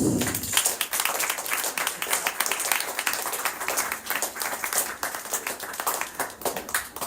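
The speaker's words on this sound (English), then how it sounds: "please give them a round of applause" An audience at a Bhakti yoga society gathering claps as people come up, a lively uneven round of applause with distinct individual claps throughout, moderately loud and with no talk over it.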